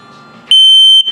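A loud, shrill electronic self-test beep from a smoke alarm in a 2020 Jayco Redhawk 24B motorhome sounds once, held steady for about half a second, after a softer background tone.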